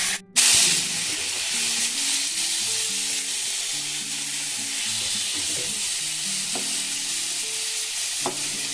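Onion, green chili and spices with melon seeds fry in a pan with a steady hiss and a spatter near the start, stirred with occasional spatula taps, close and continuous, with no talking.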